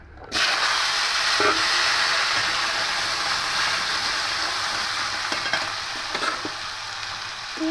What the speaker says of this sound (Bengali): কেটে রাখা আলুগুলো এবার এই তেলের মধ্যে দিয়ে দেবো